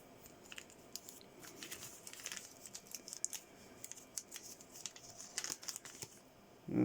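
Quiet, close crinkling of a plastic bag in scattered bursts, with soft rustles and crackles over a faint background.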